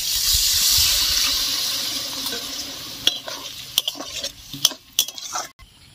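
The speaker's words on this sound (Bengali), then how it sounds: "তো এবার আমি হালকা করে জল দিয়ে দেব।" Water poured into potato curry frying in a pan, a loud hissing rush of sizzle that fades over a few seconds, then a run of stirring scrapes and spoon knocks, close and without speech.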